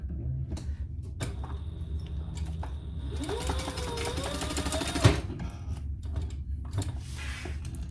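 A sewing machine bastes a few stitches through fabric while a wallet is assembled, its rapid mechanical whir running steadily for a couple of seconds mid-clip amid quieter handling noises.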